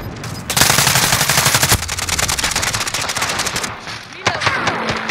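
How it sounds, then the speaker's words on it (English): A Call of Duty sentry gun fires rapid sustained bursts, loud and close, with sharp individual shots and brief pauses between volleys in a game battle. "Friendly sentry gun online."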